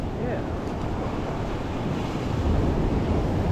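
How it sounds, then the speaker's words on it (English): Ocean waves wash and surge in a steady broadband roar with wind buffeting the microphone, growing slightly louder toward the end. "Because then you can get the waves in there."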